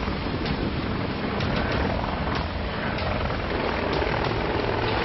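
A military Apache helicopter flies close and loud, its rotor producing a dense, continuous roar with faint rhythmic chopping and wind buffeting.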